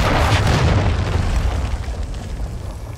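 Cruise missile explosion in Call of Duty: Modern Warfare II, a loud heavy boom at the start that rolls into a long rumbling decay fading over a few seconds.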